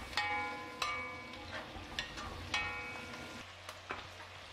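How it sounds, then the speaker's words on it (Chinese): Chili peppers and pork stir-fried over high heat in a wok, with a steady close sizzle and several sharp metallic spatula scrapes and clanks spaced through it, no talking. "开大火翻炒均匀"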